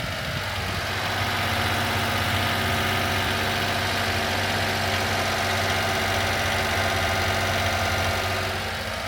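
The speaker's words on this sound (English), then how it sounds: "Let's give a little gas. Yeah, there, it's idle down a little bit. See how quiet it is." A Honda Acty's small engine idles steadily after a cold start, a close, constant low drone with a fine even throb and no voices.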